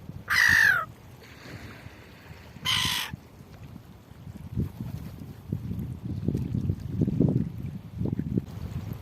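On a cold Carnac beach, gulls cry twice, sharp and close, then the shore settles into low wind and wave noise.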